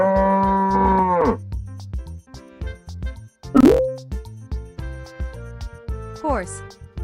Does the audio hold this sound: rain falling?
no